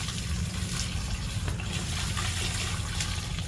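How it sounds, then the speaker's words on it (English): Water pours steadily into plant pots set up for spring planting, a continuous close splashing rush with no talking. "Getting ready to add me some water in them."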